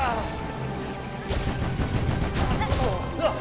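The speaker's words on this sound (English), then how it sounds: "The floor's exploding again." Floor exploding in the video game Hollow Knight: Silksong: a burst of crackling blasts and crashes following a ringing tone, several close impacts in quick succession.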